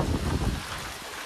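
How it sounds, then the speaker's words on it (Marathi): Heavy rain driven by strong wind on the road to a Konkan village, a dense, loud roaring wash that is strongest at the start and eases slightly after. "पाऊस जाम वाऱ्यासकट पाऊस."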